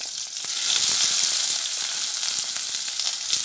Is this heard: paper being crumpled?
no